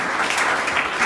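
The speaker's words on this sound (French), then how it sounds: "Acclamons très fort le Seigneur." A church congregation claps together in a short burst of dense, even applause that fills the room at moderate loudness without pause.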